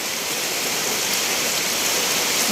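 Heavy rain from a storm in Phuket, Thailand, pours down in a steady, dense hiss with no breaks, loud and close throughout.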